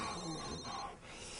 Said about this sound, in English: Frank, you're ringing